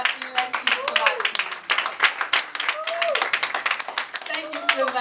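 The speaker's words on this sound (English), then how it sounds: "A standing ovation for her. Let's keep clapping, let's keep clapping" An audience claps through a standing ovation, the applause steady and dense while a voice talks over it and a melodic tone sounds beneath.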